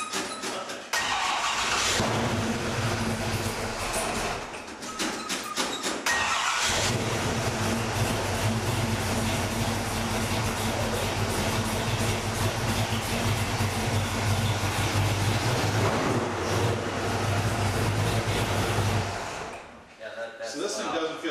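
A Shelby car engine runs and revs loudly and close, a sustained throaty roar with surges in intensity, while people talk over it at points.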